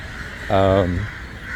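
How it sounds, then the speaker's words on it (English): A single loud crow caw rings out nearby, one harsh, short call over a background of low outdoor noise. "So you should be able to hear a lot of crows, a lot of bird sounds."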